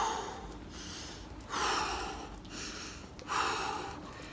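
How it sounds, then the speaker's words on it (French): Heavy, rhythmic breathing during a bodyweight workout of mountain climbers, each breath a loud, close rush of air, forceful exhales alternating with inhales, with no talking. "J'inspire, j'expire."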